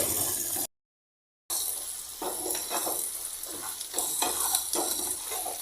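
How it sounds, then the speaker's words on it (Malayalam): Onions frying in a pan for beef ularthiyathu, a continuous soft sizzle with repeated close scraping stirs of a spoon, broken by a brief dropout of silence near the start, no voices. "അതുവരെ നമ്മൾ ഇളക്കി കൊടുത്തുകൊണ്ടിരിക്കുകയാണ്."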